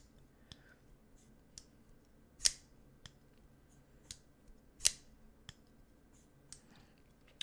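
Boos Blades Aero V2 folding knife flipped open again and again, each flip snapping with a crisp detent click; sharp isolated clicks at irregular intervals, two much louder than the rest, in a quiet room with no talking.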